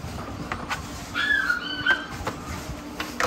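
XL pitbulls whimpering and whining in a backyard, a few short high-pitched cries around the middle of the brief stretch, fairly close over a faint background hum.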